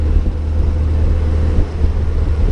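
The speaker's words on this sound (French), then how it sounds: "Il y a un vent horrible aujourd'hui." Strong wind buffets a microphone outdoors beside a Volkswagen beach buggy, a loud, continuous low rumble with gusty fluctuations and no voices.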